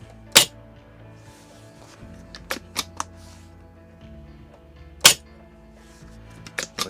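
Sharp clicks and snaps from an Action Army VSR-10 airsoft rifle being cycled and fired, a few isolated crisp cracks scattered across a quiet room with faint mechanical handling noises between them.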